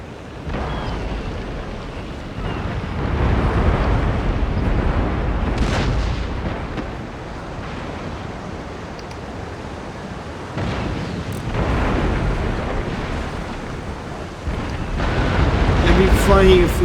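Heavy naval cannon fire from sailing warships in Empire Total War, deep rumbling booms rolling over one another in waves over a constant low roar, loud and fairly close, with someone talking over it.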